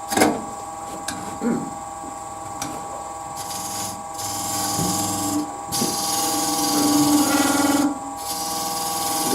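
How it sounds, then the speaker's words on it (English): A spindle gouge takes light cuts on a wooden candlestick turning on a lathe, giving intermittent scraping and rasping over a steady motor hum, with someone talking throughout. "Using my spindle gouge just to take little bits off there"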